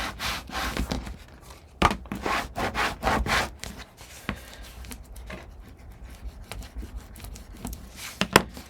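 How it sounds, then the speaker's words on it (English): A paper piece is burnished onto a 4 1/2 x 5 1/2 inch farm-themed mini album, giving close, dry rubbing strokes that are busiest early on, then softer scrapes and a sharp tap near the end, with no talking. "put it right up against the edge, push it down, and burnish"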